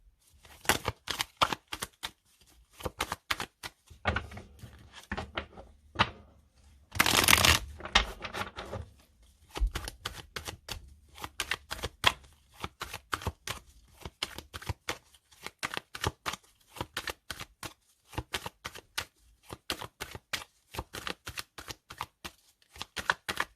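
Two tarot decks being shuffled by hand, the Golden Universal Tarot and The Light Seers Tarot, heard as close, rapid bursts of card riffles and slaps, with one longer dense flurry partway through.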